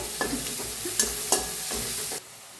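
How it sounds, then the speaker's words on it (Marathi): Chopped onion and tomato frying together in a pan for a village-style guar bean dish, a steady sizzle broken by a few stirring scrapes, ending abruptly. "आता बघा कांदा छान भाजलाय त्याच्यात टमाटो बी टाकून घेतले तंबाटो बी छान असं भाजून घेऊया"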